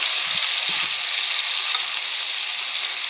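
Okra goes into hot oil for a Bengali okra tel jhal, and a loud, steady frying sizzle and hiss fills the scene, with a few low bubbling pops early on.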